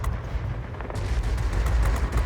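The 20 mm cannons of a Ki-93 heavy fighter fire in World of Warplanes as a rapid, dense stream of thudding shots. The bursts stay loud and continuous throughout, with no speech over them.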